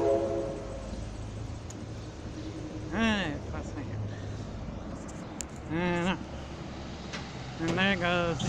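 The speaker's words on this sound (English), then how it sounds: "Here comes a northbound cargo train." Northbound freight train passing through Castle Rock, Washington, heard as a steady rumble of rolling wagons at moderate distance, with someone talking over it in short bursts.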